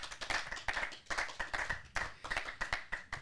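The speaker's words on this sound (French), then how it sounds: "vous pouvez applaudir Francis Dordor." Sparse clapping from a small audience at a library talk on record shops and vinyl, uneven individual hand claps, faint and fairly close.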